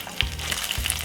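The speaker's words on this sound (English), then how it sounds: "it's still frying on that one side" An egg fries in a hot pan for a Saturday-morning egg sandwich, giving a steady close sizzle with a few faint pops and crackles and no talking.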